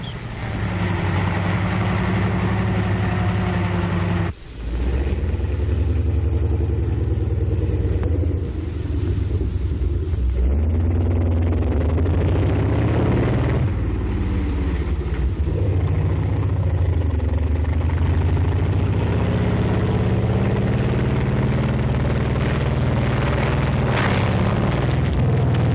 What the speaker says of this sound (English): Concrete eggs can be taken in stride by the tank dozer.